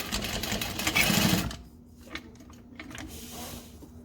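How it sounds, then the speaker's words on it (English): A sewing machine stitches a short run across a backpack corner, a fast close mechanical whir for about a second and a half before stopping, followed by faint handling sounds. "I'm going to turn it at an angle and just do a short little stitch across so it doesn't gape open."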